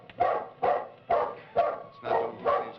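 A small dog on the 1950s children's television show Howdy Doody barks six times in a steady, evenly spaced rhythm, sharp close yaps with nothing else over them.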